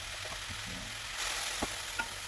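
Kikkoman Light soy sauce hits pancit noodles in a hot pan with a soft, steady sizzle, broken by a few faint stirring taps and a brief rise in the hiss.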